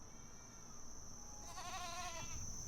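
Sheep bleat in The Last of Us Part II, a faint, wavering cry rising briefly over a quiet outdoor ambience with a steady high whine in the background.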